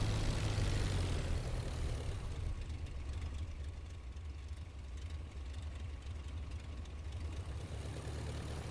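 An aircraft engine drones steadily in the IL-2 Flying Circus video game as the plane rolls for takeoff, a continuous loud, rough hum with no talking over it.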